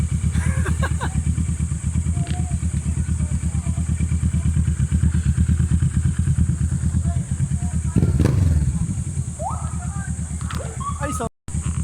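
A motorcycle engine runs steadily and loudly up close at an outdoor relay footrace, with a brief rev near the end and a voice shouting over the drone.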